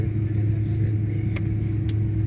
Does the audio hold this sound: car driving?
yes